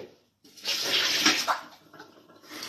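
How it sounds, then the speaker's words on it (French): An aloe vera leaf rinsed under a running kitchen tap, a close steady splash of water that starts after a brief silence and shifts as the leaf moves through the stream, then eases off. "Je rince mon aloe vera."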